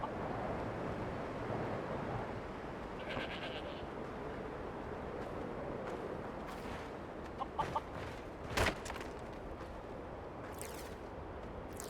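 Chickens cluck on a farm in the video game Skyrim, a few faint scattered clucks over a steady wind-like outdoor ambience, with a brief sharper call near the end.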